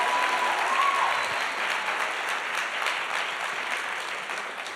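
Sustained applause from an audience at an education talk event, a dense, steady clatter of many hands that holds loud throughout and eases slightly toward the end, with no speech over it.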